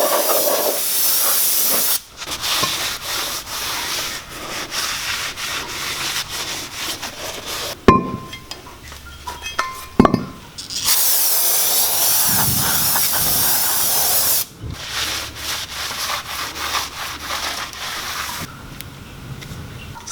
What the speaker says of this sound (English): use some non-chlorinated brake cleaner just to remove any manufacturer oils or any oils off the surface of the rotor